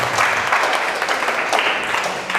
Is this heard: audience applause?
yes